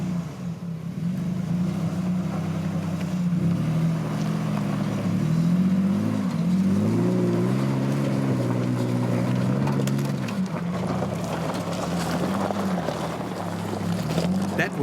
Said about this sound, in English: areth Gonsalves and Chantal van Niekerk, and they're in an Isuzu Frontier V6